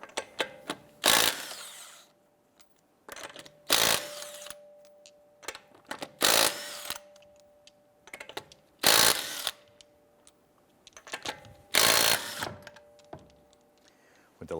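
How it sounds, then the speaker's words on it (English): A power tool with a 19mm socket zips lug nuts off the rear wheel of a 2012-2017 Toyota Camry in five loud, evenly spaced bursts, with quiet gaps between them. "Using our 19mm socket, we're going to go ahead and remove our lug nuts"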